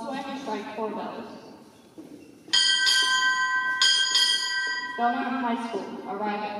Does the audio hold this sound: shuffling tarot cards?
no